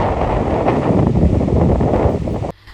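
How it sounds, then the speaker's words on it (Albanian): Strong coastal wind, gusting at up to 15 metres per second, roars loudly into the microphone in a buffeting rush that cuts off abruptly near the end. "për shkak të erës së fortë bregdetare me shpejtësi deri në 15 metër në sekond"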